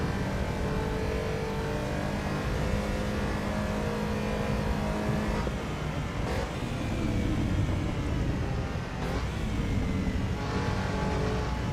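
Racing car engine in the Assetto Corsa Evo video game accelerating hard out of a corner in third gear, a loud, close, continuous high-revving drone with rising pitch and brief gear-change breaks.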